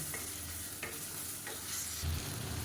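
Tomato pieces and ginger garlic paste sautéing in hot oil for a chicken biryani, with steady sizzling and a few stirring scrapes from a spoon, close and fairly loud with no voices.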